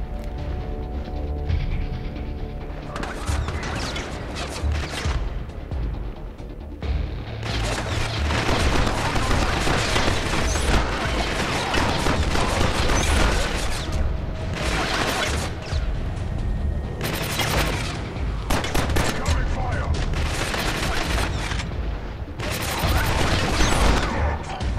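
Heavy video-game gunfire rattles in dense automatic bursts and booming shots, loud and nearly continuous, with brief lulls between volleys.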